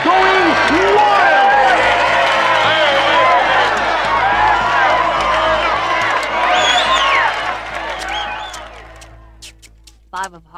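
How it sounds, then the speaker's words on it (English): Wrestling match crowd cheering wildly, a dense roar of whoops, applause and clapping filling the arena at full volume before thinning and fading out near the end. "The crowd is going wild!"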